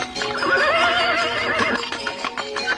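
A horse pulling a cart lets out a loud, close whinny that rises and wavers for about two seconds, followed by fainter rustling and movement.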